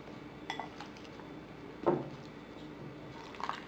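Chicken wing coating ingredients stirred in a bowl, giving soft scraping with a few clinks of a utensil against the dish, one louder knock near the middle, with no talking.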